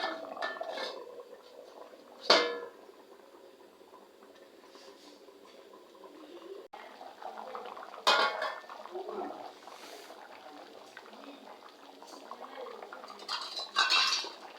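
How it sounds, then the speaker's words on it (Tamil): Village-style chicken curry bubbles in a pot, a steady soft simmer broken by occasional sharp clinks and clatters of metal utensils against the pot. "குழம்பு நல்லா கொதிச்சு வந்துருச்சுங்க"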